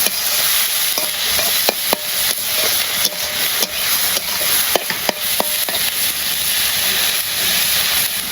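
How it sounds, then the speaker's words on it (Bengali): Onions frying in a pan with turmeric and chili in a village kitchen, a steady loud sizzle with scattered sharp clicks and taps from stirring throughout. "পেঁয়াজটা ভাজা ভাজা হবে"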